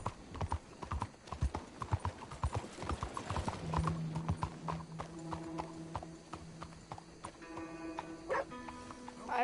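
Hooves clip-clop in a quick rhythm as a horse trots in the Red Dead game, close and steady, with snorts, game ambience and a brief voice mixed in.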